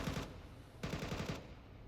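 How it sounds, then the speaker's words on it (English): Gunfire in a Counter-Strike video game match: two quick bursts of rapid automatic shots, faint and somewhat distant, separated by a short pause. "Just shots sailing past one another through the smokes."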